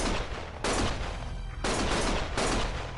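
Bursts of gunfire in the video game Lost Judgment, three loud sustained volleys of rapid shots separated by short quieter gaps, close and harsh, with no talking.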